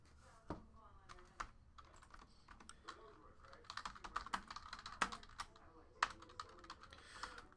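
Fast, uneven clicking of computer keyboard keys being typed close up, quiet overall, with some talk in the background.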